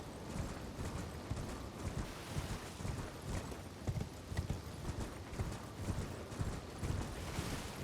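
A horse gallops in Elden Ring, its hooves pounding in a fast, steady clip-clop rhythm throughout, close and continuous over wind-like ambience, with no talking.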